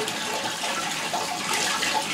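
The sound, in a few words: water running into a gravity-fed colonic chair system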